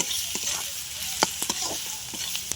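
Turmeric, chili, coriander and cumin powder masala fries in a pan for a silver carp fish kalia, a steady close sizzle broken by quick scraping strokes and light taps of the spatula.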